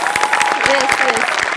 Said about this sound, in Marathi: त्याच्याकरता एकदा आपण टाळ्या वाजवूया.